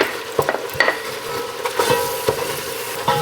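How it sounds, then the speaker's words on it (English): Flour stirred into melted butter in a pan for a quick roux, a close scraping shuffle over a low sizzle, punctuated by several sharp utensil taps against the metal. "I got some flour. I'm just gonna stir it in this little section here."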